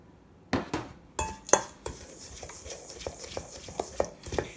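Melted butter goes into a cheesecake crumb mixture in a bowl, followed by a series of close, sharp utensil clinks and scrapes against the bowl at an uneven rhythm as it is mixed.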